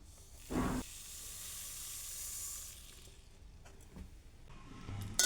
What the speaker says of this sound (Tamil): கடுகை வந்து நல்லா சிம்மில் வச்சுட்டு நல்லா வறுத்துக்கோங்க